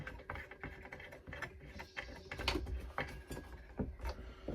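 A blade is being screwed back onto a DeWalt DCS570 circular saw, giving close, quiet ratcheting clicks and metallic taps in a loose, irregular rhythm.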